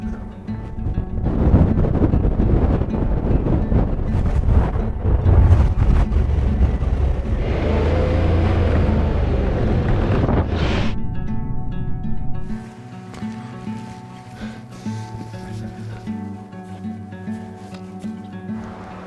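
Strong wind buffets a microphone outdoors during an elk hunt, a loud, continuous low rumble for about twelve seconds that drops to a quieter, steadier hiss of wind for the remainder.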